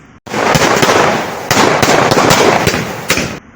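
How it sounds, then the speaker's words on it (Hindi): Firecrackers burst in dense, rapid crackling volleys at a street protest, loud and continuous with a few sharper pops standing out, no speech. "कहीं पटाखे"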